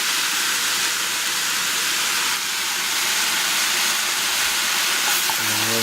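Carrots and grated coconut frying in a pan give a steady, loud sizzle and hiss that runs unbroken throughout, with a brief clatter near the end.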